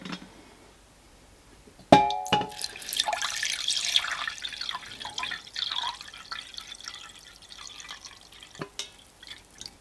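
Water pours from a Trangia camping kettle and a GSI Glacier camping kettle, beginning with a sudden splash and continuing as a steady close trickle with dripping that lasts several seconds.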